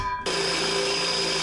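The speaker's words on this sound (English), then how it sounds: "now I need to drill a hole about that size" A power drill boring a hole into a tube for a car bonnet project starts abruptly and runs at a steady, loud, close whine with a high buzzing tone, continuous to the end.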